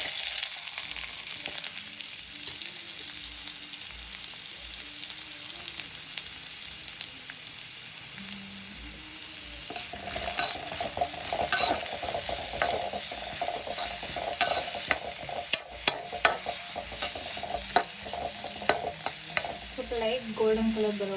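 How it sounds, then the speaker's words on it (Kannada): Onion, ginger and garlic sizzle and fry in hot oil in a pan, a steady crackling hiss broken by scraping stirring strokes that grow busier partway through, with no talking. "ಈಗ ಬಾಣಲಿ ಇಟ್ಕೊಂಡು ಎಣ್ಣೆ ಹಾಕ್ಕೊಂಡಿದ್ದೀನಿ. ಅದಕ್ಕೀಗ ಈರುಳ್ಳಿ, ಶುಂಠಿ, ಬೆಳ್ಳುಳ್ಳಿ ಇದಿಷ್ಟು ಹಾಕ್ಕೊಂಡು ಫ್ರೈ ಮಾಡ್ಕೊತಾ ಇದ್ದೀನಿ"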